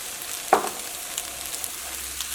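Leftover cooked rice being stirred with salt in a steel pot, one sharp spoon clink against the vessel followed by soft scraping and faint mixing sounds.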